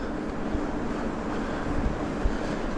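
Steady wind blowing outdoors around a carbon electric mountain bike being tested, a continuous broadband rush with buffeting against the microphone and a few low thumps, no voices.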